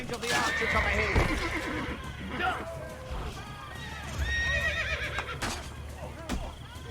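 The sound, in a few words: horse neighing in a video game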